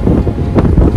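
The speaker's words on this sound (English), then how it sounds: "My hair is blowing in the wind." Wind gusts at a Miami beach on a chilly day, a steady, close, rumbling buffet of air across the microphone lasting the whole second, with no talking.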